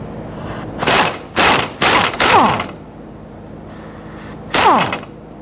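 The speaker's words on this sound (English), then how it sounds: "So use your 17 millimeter, go ahead and loosen and remove this bolt here." A ratchet with a 17 mm socket loosening a bolt on a 2005-2021 Nissan Frontier 4.0L V6 during fuel tank sending unit work. Several rapid clicking bursts come in close succession, then a pause and one final burst, loud and close.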